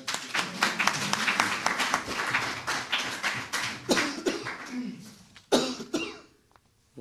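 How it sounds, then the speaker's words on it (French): Clapping from the audience at a discussion forum, a run of scattered, uneven claps that thins out and stops, with a couple of loud isolated claps near the end before quiet. "On vous applaudit parce qu'on aime déjà."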